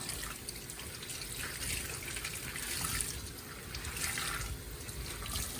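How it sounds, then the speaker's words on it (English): Tap water runs steadily into a sink while tie-dyed fabric is rinsed under it, a continuous faint splashing hiss with no one talking. "The water's starting to run clear."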